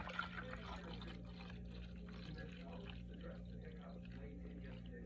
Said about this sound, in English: So I'm entering water.